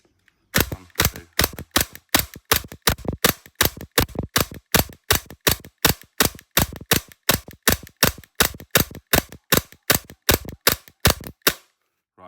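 Tokyo Marui G19 Gen3 airsoft gas pistol with a fresh gassed magazine fires about thirty sharp, snappy shots in quick, slightly uneven succession, loud and close with no talk.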